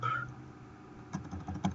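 Someone typing on a computer keyboard while working in a Linux terminal on an Oracle test database: a short, quiet run of key clicks near the end, after a brief faint voice at the start.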